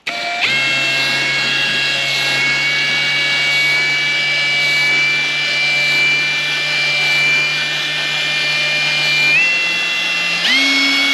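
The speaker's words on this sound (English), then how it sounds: "Let's get the other rivet drilled." Small power drill boring out a rivet on a diecast model car, a steady close high-pitched whine held for about ten seconds with a pitch shift near the end.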